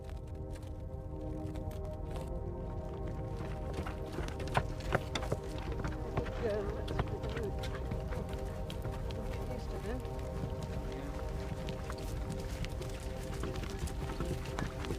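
Hooves of many horses clip-clop steadily as an ancient cavalry army of armored men advances across a plain, a continuous dense trampling under a droning musical bed with occasional whinnies.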